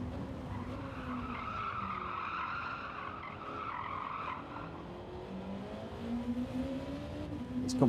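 A car with a failed tyre skids and squeals through a race in Gran Turismo 7, with wavering, sliding tyre screech over a steady engine drone, quiet in the mix.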